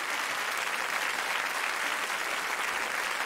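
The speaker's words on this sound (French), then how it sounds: "on peut l'applaudir chaque fois" A concert audience at a large holiday choir show applauds a singer, with thick, sustained clapping held at a steady level throughout and no voices on top.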